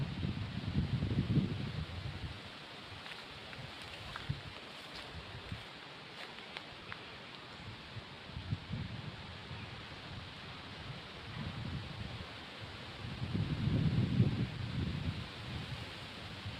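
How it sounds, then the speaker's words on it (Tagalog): Strong wind buffets the microphone in deep rumbling gusts, loudest at the start and again near the end, over a steady rushing roar. "ang lakas ng hangin ngayon."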